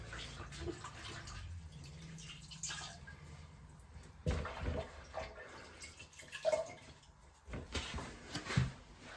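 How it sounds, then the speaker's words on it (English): A rag is rinsed out in toilet bowl water during a toilet flange replacement: intermittent sloshing and dripping splashes, close and fairly quiet, with pauses between bursts of water movement. "I'm just rinsing this out in the toilet bowl."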